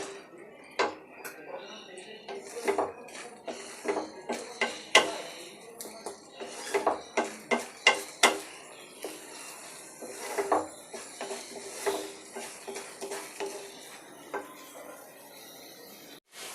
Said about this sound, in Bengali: তেলে এবার এই পেস্টটা ভালো করে কষাতে হবে